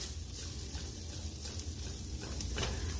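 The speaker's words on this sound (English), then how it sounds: "while this tempeh bacon is frying up in our pan" A steady, quiet sizzle of tempeh bacon frying in a pan, with a few faint stirring sounds near the end and no talking.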